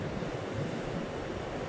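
Steady ocean surf washes continuously at a constant level, a soft, broad rush of breaking waves with some wind, with no voices.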